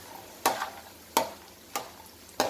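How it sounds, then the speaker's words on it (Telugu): Dried red chillies fry in oil for a savoury rice-flake mixture, a faint steady sizzle broken by four sharp, evenly spaced spoon knocks as the pan is stirred, close by and with no talking. "మిరపకాయ బాగా ఇట్లా నూనెలో యాగాలి"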